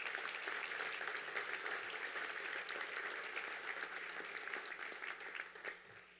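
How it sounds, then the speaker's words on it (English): Audience applause at a live awards event honoring a football coach, a steady dense wash of clapping that fills the room before gradually thinning near the end, with no talk over it. "let's give them a round of applause for being here today."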